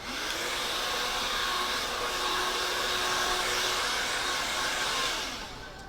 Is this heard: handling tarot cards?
no